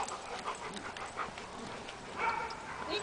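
A dog whimpering and panting close by, with soft whines, quick breaths and small yips scattered over a few seconds, while a person talks to it affectionately.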